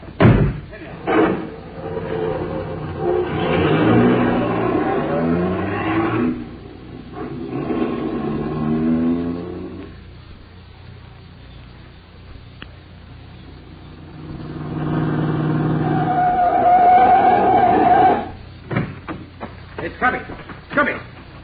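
Car doors slam with sharp thuds and a car pulls away with engine revving, mixed with people talking urgently throughout.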